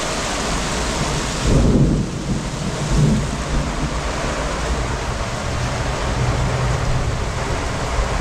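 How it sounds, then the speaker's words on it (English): Heavy rain pours steadily in a dense hiss while a loud thunder rumble swells near the start, followed by a fainter roll of thunder under the downpour. "looks like the winds have kind of slowed down, but the rain is still heavy"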